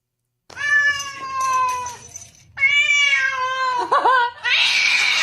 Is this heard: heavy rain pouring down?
no